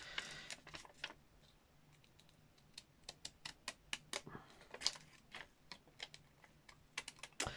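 Scissors cutting vellum paper while crafting a travel-themed junk journal page: quiet, irregular snips and crisp clicks in a close indoor setting, bunching into quicker runs toward the end.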